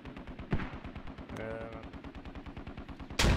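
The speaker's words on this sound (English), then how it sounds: "Grenade goes off near Heartbreaker," Video game firefight in a squad operation: steady rapid gunfire rattles throughout, a sharp blast hits midway, and a loud grenade explosion bursts near the end.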